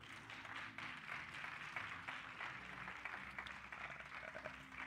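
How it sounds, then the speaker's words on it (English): Applause from a church congregation at a Sunday cathedral service, honoring the young people, a dense wash of many hands clapping steadily and fairly quietly for about five seconds. "Let's give all our smart young people a round of applause."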